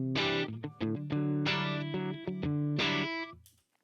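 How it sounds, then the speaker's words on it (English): A dry electric guitar with no reverb plays a short run of distorted, sustained chords and notes, with abrupt changes between them and a clean cutoff at the end. "I just recorded my dry signal just to hear that I don't have any reverb on it"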